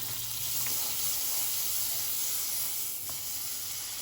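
Shrimp seasoned with salt and pepper sizzle in butter in a home hibachi-style pan, a steady close hiss with faint crackles running unbroken and without talk.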